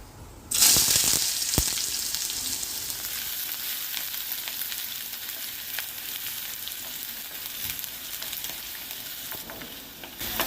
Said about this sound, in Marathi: आता आपण कांदा घालून घेऊया